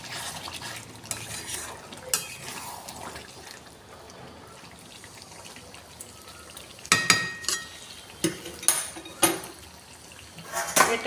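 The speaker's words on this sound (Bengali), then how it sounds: "আমি গ্যাসটা কমিয়ে দিয়ে এটাকে ঢাকনা দিয়ে দিয়ে কষিয়ে" Mango chicken fries in a pan over a lowered gas flame with a soft sizzle, broken by sharp scraping stirs and clinks of a utensil that grow busier toward the end.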